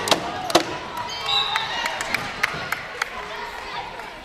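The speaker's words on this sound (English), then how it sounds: "intense crowd here for Brickett. They're trying to bring up the energy." Crowd noise at an elementary school boys' basketball game between Shoemaker and Brickett: a busy gym murmur and chatter with scattered cheers, ball bounces and sneaker squeaks, and a commentator talking over it.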